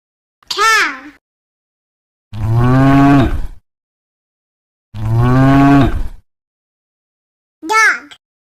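A cow moos four times, loud and close: two short calls bracketing two long, deep, drawn-out lows, with silence between each.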